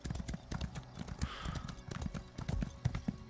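Horse hooves in the video game Elder Scrolls Online, a brisk, uneven run of clip-clop strikes, close and fairly quiet, with a brief neigh partway through.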